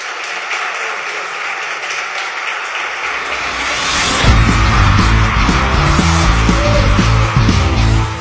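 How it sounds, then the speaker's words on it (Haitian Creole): An audience applauds as a slam poet comes on stage, a broad, loud wave of clapping that swells midway and is joined by a low rumbling musical backing. "je vous invite à l'applaudir s'il vous plaît"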